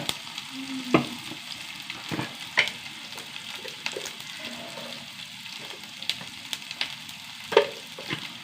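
Chilli powder and garam masala frying in a hot pan, a continuous low sizzle broken by sharp spoon scrapes and clinks every couple of seconds, close and with no talking.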